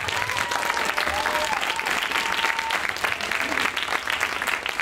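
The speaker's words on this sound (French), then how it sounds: "un tonnerre d'applaudissements pour la Lidée." Crowd at an improv match gives a thunderous, sustained applause for a team from Cergy, dense clapping with faint cheers and whistles running through the whole stretch.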